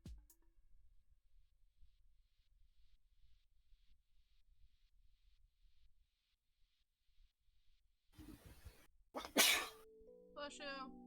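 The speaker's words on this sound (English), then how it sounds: "Gonna sneeze again." A person sneezes near the end after a long, nearly silent stretch with a faint rhythmic ticking, giving a sharp, loud burst followed by a brief second explosive breath and a short voiced sound.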